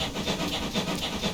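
GWR Small Prairie 2-6-2T steam tank locomotive in Train Simulator Classic, giving a steady rhythmic chuff of exhaust beats with hissing steam, moderately loud and continuous without voices.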